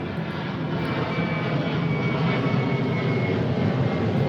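An American Airlines airliner passes overhead above a blooming garden, its engine roar a steady, loud broadband rumble that holds without a break.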